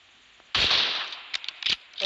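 Gunfire in a shooter video game, a sharp burst of shots followed by a few quick scattered cracks, fairly loud and close with no talk over it.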